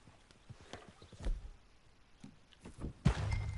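Horse hooves in the video game Red Dead Redemption 2: a faint, uneven run of soft clip-clop thuds at a walking pace, with a heavier knock near the end and no talk over it.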